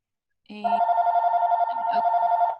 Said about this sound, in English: Is that your phone too, Pam?